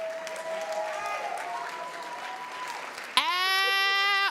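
Applause from a crowd at a women's collective leadership graduation celebration, a steady wash of clapping and cheering that runs under a voice and is then cut off by a sudden loud sustained tone.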